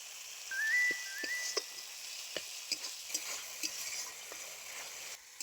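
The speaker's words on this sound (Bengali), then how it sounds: "মশলা খুব ভালো কষিয়ে নিয়েছি, মশলা থেকে খুব ভালো তেল ছেড়ে গেছে" Spice paste with Kashmiri chilli powder and chopped tomato fries in oil for a jackfruit and rohu fish curry: a soft, steady sizzle with light spatula taps and a brief thin whistle early on.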